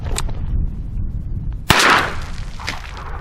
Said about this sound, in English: I think I'm gonna take one last shot